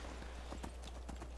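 Horse hooves clip-clopping in the video game Skyrim, a quiet, steady run of light hoofbeats over a constant low background hum, with no talk.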